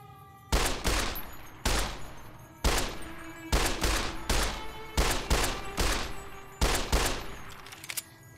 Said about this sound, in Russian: Да что я патроны трачу?